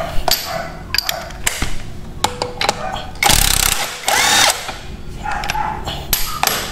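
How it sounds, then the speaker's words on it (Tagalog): On a Yamaha NMAX V2 scooter, a wheel nut bolt is loosened with close metallic tool clanks and taps, then a short, louder burst of ratcheting or wrenching partway through. "luwagan muna natin yung bolt ng mismong nut ng gulong natin"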